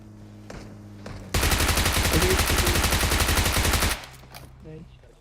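UMP and Vector submachine guns fire in PUBG Mobile as one long rapid burst of loud automatic shots, preceded and followed by a few quieter game sounds.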